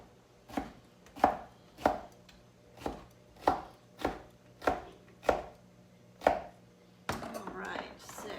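Knife chopping vegetables for a Mediterranean salad on a cutting board, about ten close, crisp evenly spaced chops in a steady rhythm, then a rustle of the chopped pieces being moved, no talk.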